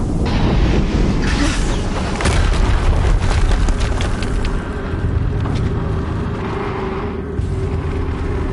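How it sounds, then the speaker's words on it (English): Explosions in the video game Horizon Zero Dawn: loud, heavy booms and rumbling blasts that roll on continuously, with crackling debris bursts layered through the whole stretch. "Another explosion."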